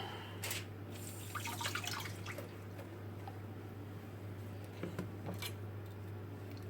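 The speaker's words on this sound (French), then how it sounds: "le couper en deux et à le rincer sous l'eau rapidement" A halved pepper rinsed briefly under a running kitchen tap, a soft steady stream of water with scattered splashes and drips over a low constant hum, close and fairly quiet.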